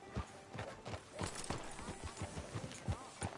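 Horse hooves clip-clop at a steady walking rhythm in the video game Red Dead Redemption 2, close and moderately loud, with faint ambient noise and no voices.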